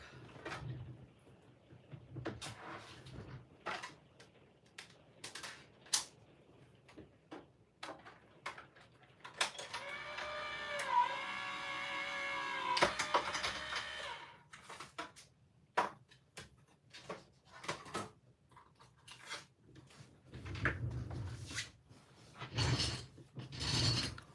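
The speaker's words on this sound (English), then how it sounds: "I'm going to run this through my machine" A die-cutting machine feeding a card through, with a run of irregular mechanical clicks and clunks, then a continuous whirring, rolling grind for several seconds in the middle, followed by more handling knocks.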